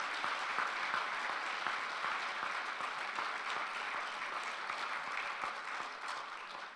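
Audience applause welcoming a speaker to the podium at a peace prize award ceremony, a dense, steady wash of clapping that holds for several seconds, then eases slightly at the end.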